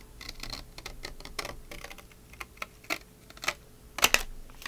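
Paper cut by hand for a file folder notebook: a quick run of crisp, irregular snips and clicks, close by and moderately quiet, with one denser burst toward the end.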